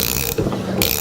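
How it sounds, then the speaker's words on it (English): A cheap ratchet turning a wheel bearing puller on a Toyota Corolla 7AFE, loud close rapid clicking that pauses briefly midway and then resumes. "And now I'll get my little cheap ratchet and try it again."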